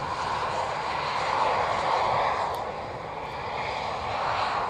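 Aircraft passing overhead at around 14,000 feet, a continuous broadband engine roar that swells slightly and then eases, distant but steady.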